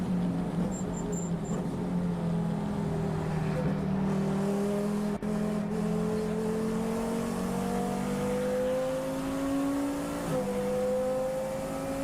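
Race car engine heard from the onboard camera during an FIA CEZ endurance race at Slovakia Ring, a loud continuous drone climbing steadily in pitch under acceleration, with a brief shift-like break near the end.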